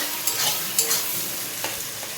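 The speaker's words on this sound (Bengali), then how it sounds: "দিয়ে ওর সঙ্গে ভালো করে নেড়ে চেড়ে নেবো" Lightly fried vegetables with ginger garlic paste for chilli chicken are stirred in a hot pan, a steady close sizzle broken by a few quick scraping strokes, with no talking.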